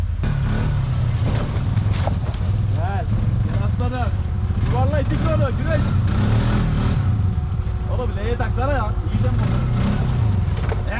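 An ATV engine revs and strains on hard off-road terrain, rising and falling whines over a rough low rumble, with people shouting and talking over it throughout.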